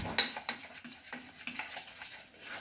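Biscuit batter for jeera biscuits is whisked by hand in a bowl, giving a rapid, irregular run of close scraping and clinking strokes.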